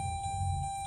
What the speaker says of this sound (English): Quit beeping, car.